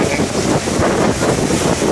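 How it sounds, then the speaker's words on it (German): A boat engine runs steadily aboard a motor vessel leaving Vilamoura marina in Portugal, its low drone mixed with heavy wind buffeting the microphone and nearby water noise. "Motor läuft, genau."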